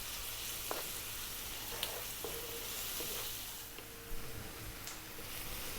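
Tomato sauce base with smoked paprika and oregano frying over medium heat, giving a continuous soft sizzle with occasional faint pops and stirring, steady and unbroken with no voices.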